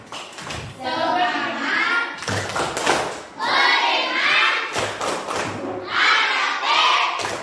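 Classroom of primary school children performing the 'tepuk siap' clapping chant: three bursts of rhythmic clapping mixed with loud, chanted children's voices, separated by brief pauses, close and lively.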